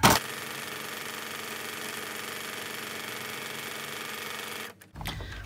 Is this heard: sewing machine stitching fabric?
yes